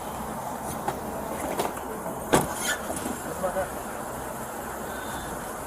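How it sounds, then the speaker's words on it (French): A grey Ford car arrives suddenly and pulls to a stop close by, its engine a low rumble with a sharp thud midway and a few lighter knocks after, while muffled voices are faintly present. "la Ford grise déboule soudainement et s'arrête tout près de lui"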